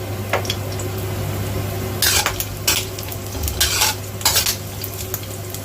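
Garlic and shallots are stir-fried over moderate heat in a stainless steel wok, with a steady sizzle under repeated metallic scrapes and clanks of the spatula, and a low hum of a burner or hood.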